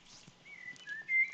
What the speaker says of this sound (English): Yeah, bird noises.